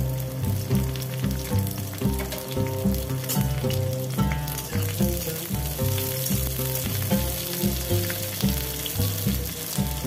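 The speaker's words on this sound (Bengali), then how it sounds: "এরপরে আমি উচ্ছেগুলো ভেজে নেব।" Bitter gourd fries in hot mustard oil in a wok, giving a loud, continuous crackling sizzle with small bursts as the pieces are stirred, and no voices.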